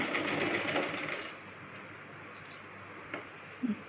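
A sewing machine double-stitches a kids' lehenga, a fast buzzing run that stops after about a second, followed by quieter small clicks and handling taps.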